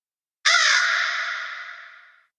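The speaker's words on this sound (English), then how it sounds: "all of a sudden we hear like bird in distress" A single loud, harsh cry from a bird in distress, one drawn-out rasping call that starts sharply, then fades over about two seconds, heard up close and alone.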